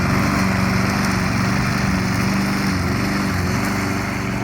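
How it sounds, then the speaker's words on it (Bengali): A lawn mower runs continuously at close range, its engine droning steadily with slight shifts in pitch as it cuts grass. "মেশিনের নাম মো মেশিন।"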